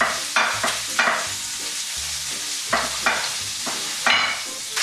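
A brush dabs and spreads seasoning over lobsters, giving soft, close wet swishes and taps in irregular bursts, with faint clicks between strokes.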